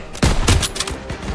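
Machine gun fire in Call of Duty WW2, a few heavy, booming bursts of close battle fire layered with rumbling combat noise, loud and dense.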